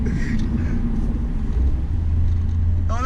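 Engine of a 2019 Mazda MX-5 Miata with the top open, a steady low drone while driving with wind and road rumble, loud and continuous throughout; a voice talks briefly at the start.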